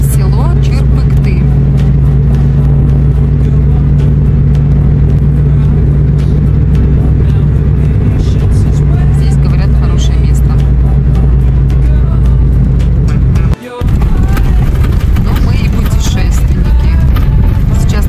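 A car drives along toward the village of Chyrpykty, a steady low engine and road rumble heard from inside, briefly dropping out near the end, with a person talking over it.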